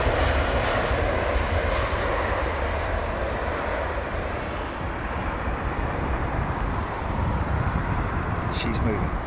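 An airliner at London Heathrow starts rolling, its engines giving a loud, steady, broadband roar that fills the whole stretch and swells slightly toward the end.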